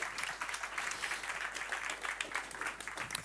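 Audience applause at the close of a DevOps conference talk, a steady, fairly faint patter of many hands clapping that continues evenly throughout.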